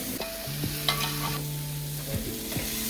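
Cooked noodles are stirred and tossed with a creamy vegan mushroom sauce in a pan, giving soft wet squelching and scraping strokes with a faint sizzle beneath and a steady low hum, no talking.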